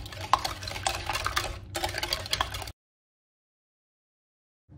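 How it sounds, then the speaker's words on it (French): A whisk beats cake batter for a jam cake in a bowl, giving quick, close scraping and tapping strokes for a few seconds before the sound cuts to silence. "Maintenant, je vais fouetter un petit peu. Je vais utiliser un fouet."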